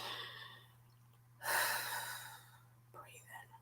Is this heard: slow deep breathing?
yes